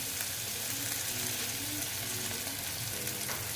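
Steady, dense sizzling of koi fish sautéing in oil, with faint stirring scrapes in the pan; no voices.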